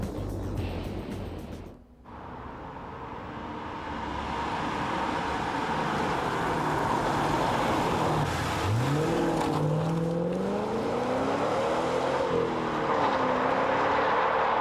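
An MG ZT 260 runs with a deep, low engine note, a sustained steady drone that rises and falls in pitch as it revs, loud and close with no talk over it.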